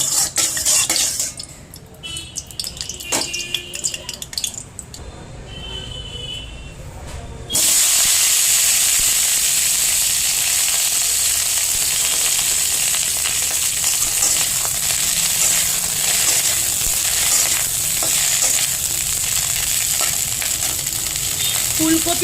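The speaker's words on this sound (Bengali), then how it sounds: "তো প্রথমে কড়াতে অল্প তেল দিয়ে ফুলকপিগুলোকে ভেজে নেবো।" Cauliflower florets frying in a little oil in a wok, a steady close sizzle that jumps loud after a quieter stretch of clinks and stirring, then holds constant to the end.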